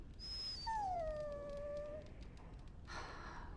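A dog in the Dragon Age: Origins video game lets out a single drawn-out whimpering whine that slides downward, standing out clearly above a low game background, then fades into quieter ambience.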